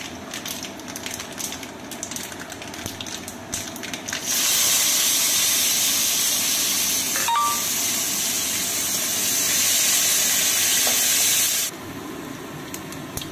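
Cumin, mustard seeds and dried red chillies are tempered in hot oil with onion frying for a raw mango fish curry, starting as a sudden loud, steady sizzle that hisses for several seconds and then cuts off.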